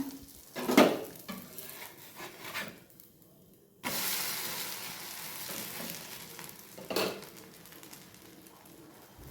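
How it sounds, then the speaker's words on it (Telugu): Potatoes for aloo fry frying in a home kitchen pan, a soft steady sizzle with a few clattering stirs and louder bursts, plus faint bird cooing in the background. "ఆలు ఫ్రై చేస్తున్నాను"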